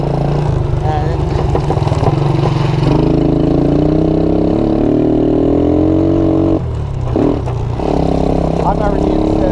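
A Suzuki Quadrunner LT230E quad built as a flat track racer revs loudly and up close, its engine climbing in pitch through the gears, dropping briefly at a shift and then pulling again, with someone talking over it.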